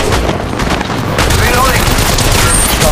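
Rapid automatic gunfire in the mobile shooter Apex Legends Mobile, loud and continuous, with dense bursts running through the whole stretch amid battle noise, with no talking.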